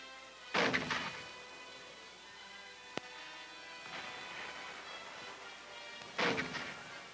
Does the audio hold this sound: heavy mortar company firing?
yes